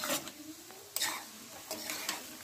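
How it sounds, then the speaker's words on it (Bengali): Chicken biryani with lightly fried chicken and potatoes being stirred in a kadai for Hyderabadi biryani, giving a few soft scraping strokes spaced apart, fairly faint and close. "এখন আমরা আবার এটা মিশিয়ে নিচ্ছি ভালো করে।"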